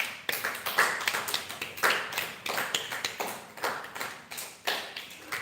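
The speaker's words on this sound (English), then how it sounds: "Big applause to Vishnu Amma" A small group of people clap in a loose, uneven rhythm, each burst of hand claps rising and fading repeatedly over several seconds, fairly close and without talk.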